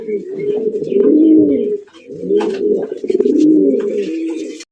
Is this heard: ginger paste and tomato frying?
no